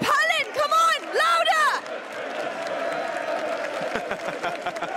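A live esports crowd in London cheers and applauds in a large hall after someone shouts loudly over them, leaving a sustained wash of clapping and whoops.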